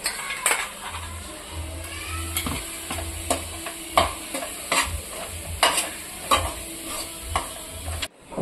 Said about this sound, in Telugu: మనం ముందుగా మిక్సీ పట్టి పెట్టుకున్న గసాలు, ఎండు కొబ్బరి పేస్ట్ కూడా వేసుకొని కాసేపు వేయించుకుందాము